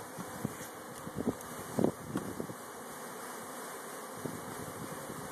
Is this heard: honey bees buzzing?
yes